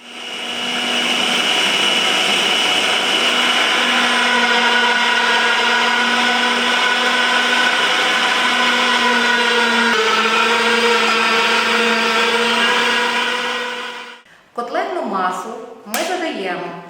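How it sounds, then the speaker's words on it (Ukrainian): A meat grinder minces turkey with onion and garlic, giving a loud, steady motor whine with a slowly shifting pitch for about fourteen seconds before it cuts off, followed by brief talking. "Все це ми йдемо пропускати через м'ясорубку."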